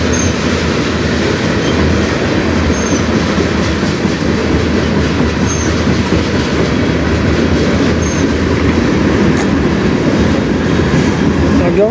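A CN freight train rolls past on the Strathroy Subdivision, steady loud rumble and wheel clatter for the whole stretch, with faint squeals from the wheels riding over the rails.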